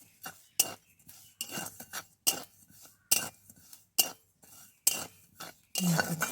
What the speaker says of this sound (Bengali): এবার খুন্তি দিয়ে নাড়তে হবে